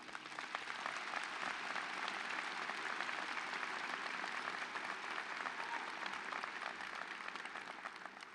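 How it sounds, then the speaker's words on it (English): Sustained applause from a graduation ceremony audience honoring the graduate faculty at a doctoral hooding, steady and dense throughout without talk. "Can we please have a round of applause for the graduate faculty?"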